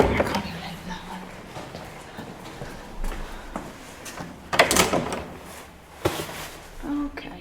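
A door in an old museum building is tried and rattled without opening, several clunks and knocks in short uneven bursts at close range over a rough background.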